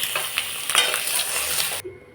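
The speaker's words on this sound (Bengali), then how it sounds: "এখন ডিমগুলোকে ভেজে নেব। আমি ডিমগুলো ভেজে নিলাম" Eggs frying in mustard oil in a pan, giving a close, steady sizzle with small stirring clicks for about two seconds before cutting off abruptly.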